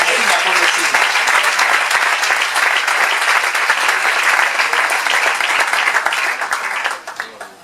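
Loud, dense audience applause in a church, sustained and even for several seconds before tapering off at the end, with a spoken voice mixed in.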